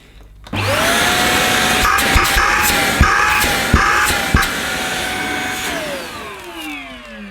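A Shark Apex UpLight corded stick vacuum cleaner, model HZ400UKT, is switched on and runs with a loud steady motor whine that wavers slightly, with a few sharp knocks as it moves over a small area of carpet, then winds down at the end.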